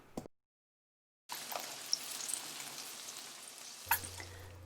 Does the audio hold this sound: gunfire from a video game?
no